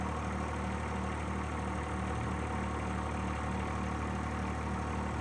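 A John Deere 1025R compact tractor idles steadily with a continuous mid-to-low engine drone and constant vibration, close by and alone for the whole stretch, with no change in speed.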